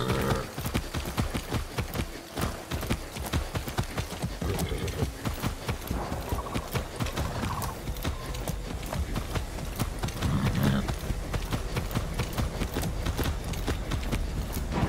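A horse clip-clops steadily along in Far Cry 6, regular hoofbeats close and clear over a layer of game ambience and music, with no talking.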